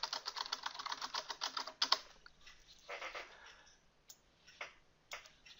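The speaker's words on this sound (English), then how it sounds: "type in the values" Computer keyboard typing in a quiet room, a burst of quick light key clicks followed by sparser taps and pauses, fairly close and soft.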